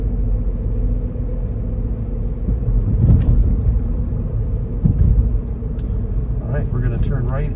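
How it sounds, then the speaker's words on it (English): Car engine rumbles steadily as the vehicle pulls away from a green light and accelerates down a hill, a low continuous drone with a brief surge in the middle. "Let us accelerate down the hill."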